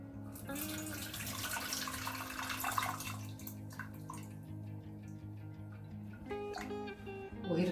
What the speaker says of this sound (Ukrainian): Кладу її в раковину і зливаю сюди воду.